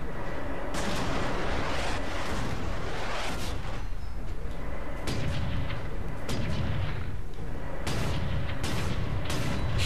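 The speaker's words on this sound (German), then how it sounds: "Ich schieße auf das Teil die ganze Zeit, ne?" Heavy gunfire and booming artillery-like blasts from the Warhammer 40k Space Marine video game, loud continuous bursts of shots and explosions with no talk.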